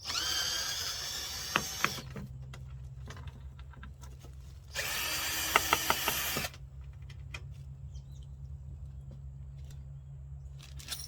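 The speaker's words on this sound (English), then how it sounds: "just to take off this, it's just 2 screws holding the backing on" A power drill backs out two screws from the wooden backing of a children's chair, two short whirring bursts over a low steady hum, close with faint clicks and rubbing between them.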